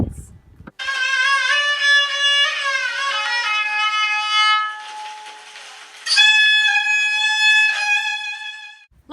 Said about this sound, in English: Traditional Uzbekistan music sounds a little like this.